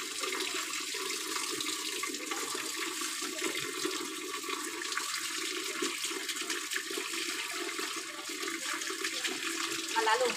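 Steady running water from a tap or shower pours continuously while a pet dog named Lalu is bathed at home, a broad even wash of sound with faint voices in the background.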